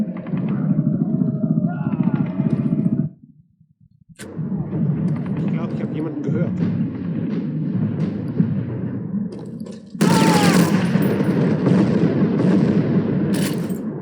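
Machine gun fire in the video game Sniper Elite rattles in bursts amid explosions and battle noise, with a short quiet gap before heavier firing resumes near the end; a player talks over it.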